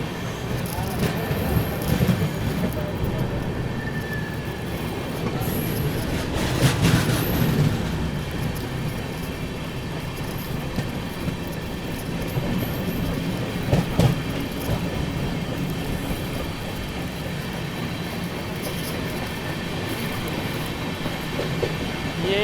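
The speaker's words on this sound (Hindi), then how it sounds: "पूर्वा एक्सप्रेस के साथ क्रॉसिंग हो रही है।" Passenger train, the Purva Express on the New Delhi–Howrah route, passing a moving train at a crossing: a steady, loud rumbling roar of rail noise with clattering wheels runs throughout, swelling slightly at moments.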